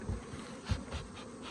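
Steady insect buzzing from many honeybees around a hive box with a newly inserted nuc, a low droning hum with small swells, close by and continuous.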